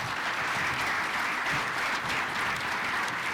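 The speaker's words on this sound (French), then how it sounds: "On peut les applaudir quand même." Audience applauding presenters at the Sommet BIM 2023 conference, a dense, steady wash of clapping from a crowd, loud and sustained for the whole stretch with no talk over it.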